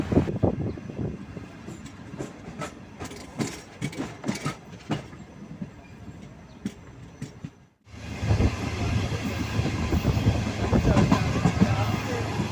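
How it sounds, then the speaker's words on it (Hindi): Pakistani 13 Up Awam Express, led by an HGMU-30R diesel locomotive, passing through Jumma Goth station without stopping: first a drawn-out train rumble with scattered clanks, then a brief lull before a loud, steady roar of cars rolling past close by. "जुम्माकोट रेलवे स्टेशन को थ्रू पास कर रहे हैं 13 अप अवाम एक्सप्रेस HGMU 30R की लीड के साथ।"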